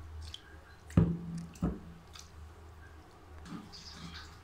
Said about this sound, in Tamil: நல்லா வாஷ் பண்ணால் தான் இதில் இருக்க அழுக்கெல்லாம் போகும்